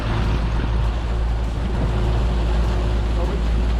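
A small fishing boat's outboard motor drones loudly and steadily as it pulls away, a continuous low roar with water rush and wind throughout.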